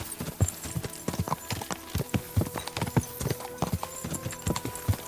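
Horse hooves clip-clopping at a steady trot on a dirt path in the medieval game Kingdom Come Deliverance 2, close and rhythmic with evenly spaced hoofbeats and no speech.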